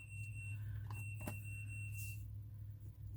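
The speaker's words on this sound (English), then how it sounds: "that beeping noise is the dryer" A clothes dryer's high electronic beeping tone sounds a few times over a steady low hum, moderately loud in a quiet room.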